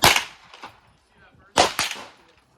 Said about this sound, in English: Guys here shooting rifles, still open to the public.